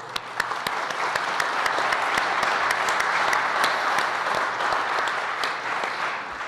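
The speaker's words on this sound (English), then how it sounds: "please give yourselves a round of applause." Dense, steady applause from a conference audience at a citizens' assembly session carries on for several seconds, loud and close, with no talk over it.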